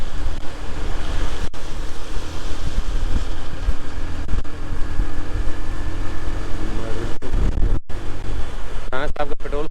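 Strong wind blows on a steep mountain road descent between Lulusar Lake and Lalazar in Pakistan. It makes a loud, steady rushing roar against the microphone, broken by a few abrupt dropouts near the end.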